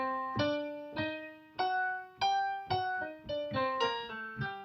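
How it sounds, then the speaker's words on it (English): A G harmonic minor scale played as a solo on a pitched instrument, about ten separate notes sounded one after another at a steady, moderate pace, each struck note decaying before the next, close and clear with no talking. "So we're going to play a G harmonic minor scale, which sounds like this."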